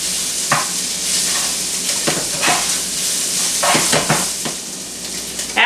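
Egg roll filling fries in a pan over a little-under-medium flame, a loud, close, continuous sizzle punctuated by several stirring scrapes and clinks.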